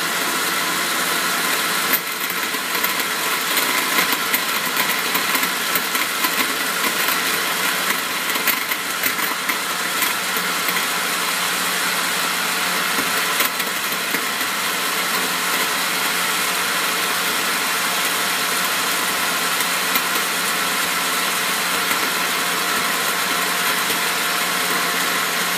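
A vintage Osterizer blender runs steadily, blending a green smoothie with a loud, continuous motor whine and a rough, strained edge that holds without pause from start to finish.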